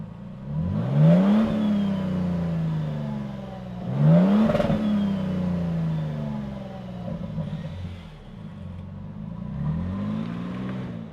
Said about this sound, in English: let's fire it up and see this big mud bath roll.